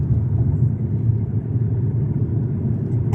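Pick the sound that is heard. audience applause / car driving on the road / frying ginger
car driving on the road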